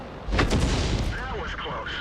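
A tank cannon fires in the World of Tanks video game, one loud booming blast followed by a rumbling tail, with a voice speaking over the aftermath.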